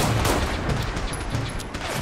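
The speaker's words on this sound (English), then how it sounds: "It's a little dinky pistol against these guys." A small pistol in Fallout 4 fires repeatedly in a swamp fight, a rapid stream of sharp gunshots packed over a steady, noisy background.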